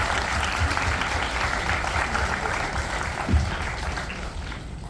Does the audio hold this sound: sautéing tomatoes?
no